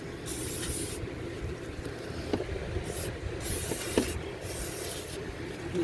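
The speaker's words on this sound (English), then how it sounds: "I'll just give it another spray down." An aerosol brake cleaner can hisses in several long bursts with short pauses between them, spraying a stuck front brake caliper on a Hyundai Sonata, close by and fairly loud over a low rumbling background.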